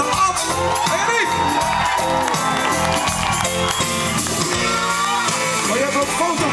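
A concert crowd cheers, whoops and shouts loudly and continuously, with some applause mixed into the din.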